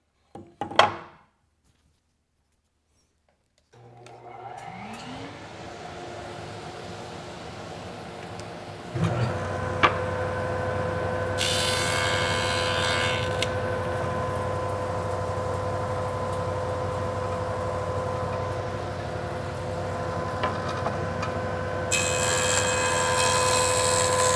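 A wood jointer motor spins up with a rising whine and then runs steadily as a board is fed partway into the cutterhead. Rougher bursts of cutting noise rise over the constant machine drone.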